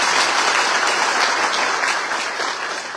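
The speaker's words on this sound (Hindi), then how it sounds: "एक बार सबका जोरदार तालियों से स्वागत है।" Dense, loud applause from a crowd at a party workers' gathering greets officials and workers, a sustained wash of clapping that tapers slightly toward the end.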